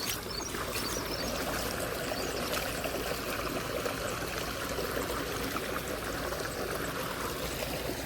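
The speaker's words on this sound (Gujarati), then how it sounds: "પાણી તો અહીંયા ઓલરેડી નીકળે જ છે" Water flows out of a freshly dug channel in a rain-soaked field, a steady broadband rush and trickle that stays constant and fairly close, with no voices.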